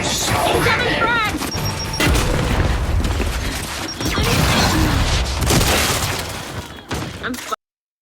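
A frag grenade goes off in a video game, a loud booming blast with crashing, shattering debris that fills several seconds before cutting off abruptly.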